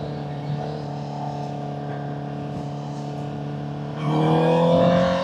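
A 2023 Honda CBR650R inline-four fitted with a Vandemon exhaust holds a steady, smooth idle drone close by, then revs up sharply near the end into a louder, higher howl.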